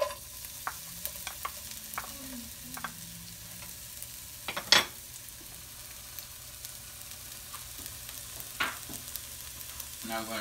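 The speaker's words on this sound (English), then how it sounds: "I'm going to put my onions in and get them nice and brown." Onions browning in a tablespoon of vegetable oil for chicken adobo make a soft, faint sizzle, broken by scattered stirring scrapes and clicks and one sharper clatter midway.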